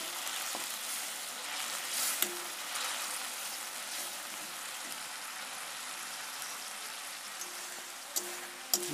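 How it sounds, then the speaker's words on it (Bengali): Spices fry in hot oil in a pan, giving a steady close sizzle with a few sharp clicks and stirring scrapes, no talking. "মশলাটা ভাজা ভাজা হয়ে গেছে,"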